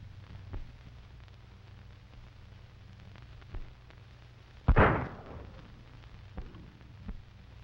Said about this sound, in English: That was pretty good shooting.